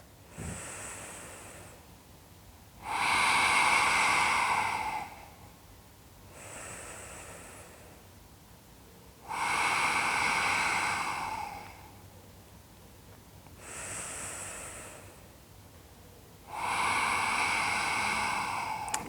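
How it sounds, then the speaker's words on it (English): Slow, deep yoga breaths taken through a slightly constricted throat, a breathy ocean-like rasp in three long cycles, each softer inhale followed by a louder, drawn-out exhale, close and with no talk. "It allows to kind of extend the exhale and just creates a slight constriction with the breath."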